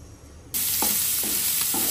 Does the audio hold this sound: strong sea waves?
no